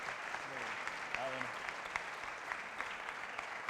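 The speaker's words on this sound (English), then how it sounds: "Let's give them one final round of applause and thank them again for wonderful presentation." An audience at a youth forum at UNESCO gives a steady, dense round of applause that carries on unbroken throughout, heard from a distance.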